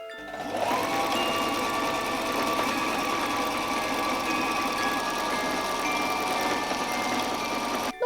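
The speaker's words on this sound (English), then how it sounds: "Going to stitch this in place so there's a tunnel to put our rod through." A sewing machine runs continuously at a steady fast clatter while stitching a fabric hem tunnel for an advent calendar rod, close and loud with no speech.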